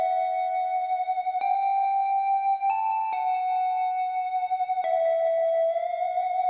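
Bright future bass synth lead from a Vital preset playing sustained chord-following notes, with pitch bends gliding between them, clean and alone without other instruments or talking.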